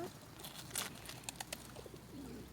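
Pigeons are fed by hand outdoors, with soft cooing and a few chirps close by over faint background noise and brief rustles.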